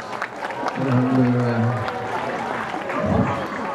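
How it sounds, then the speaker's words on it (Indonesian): A gathering marking the Prophet Muhammad's birthday applauds a child named Riza: steady clapping from a seated crowd runs beneath a speaking voice for a few seconds. "Tepuk tangan untuk Riza."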